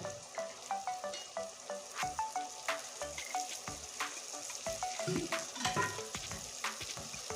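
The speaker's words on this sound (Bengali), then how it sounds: "আলুটা আমি আরও সুন্দর করে কষিয়ে নেব এখানে একটু জল দিয়ে দিচ্ছি" Potatoes frying in a pan with spices just after water is added, giving a busy, steady sizzle with crackles and sharp spits throughout, close and alone.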